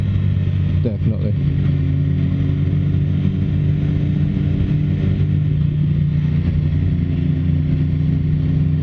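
A BMW S1000RR motorcycle engine drones steadily while riding, a loud, constant low hum with engine harmonics that holds through the whole stretch, with a slight rev shift near the start.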